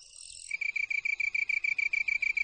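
A male long-tailed tree cricket calls to attract a female: a close, clear, high-pitched chirping trill repeated in rapid regular pulses, with no other sounds.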